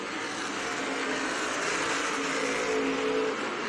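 Stock cars racing in the 2022 Thompson Icebreaker 125 give off a steady, fairly distant engine roar that holds evenly throughout, with no one talking.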